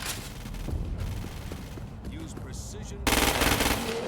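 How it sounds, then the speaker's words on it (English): Assault rifle gunfire in a video game, fired at a freak in bursts of rapid shots throughout, with a loud burst near the end over a steady game background hum. "Use precision targeting to shoot the freak's head or legs."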